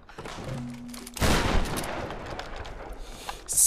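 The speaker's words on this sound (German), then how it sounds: "So, wir schießen uns hier unseren Weg mal durch." Gunfire in the Tomb Raider video game: after a quiet start with a short tone, a burst of loud shots erupts and rattles on as a dense fusillade, with another blast at the very end.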